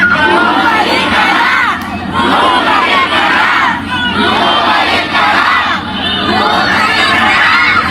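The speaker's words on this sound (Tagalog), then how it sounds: "Taong bayan, sumisigaw na bumalik ka na" A large crowd of Filipino townspeople shouts together in a loud, sustained roar of overlapping cries and cheers, rising and dipping in waves with brief lulls.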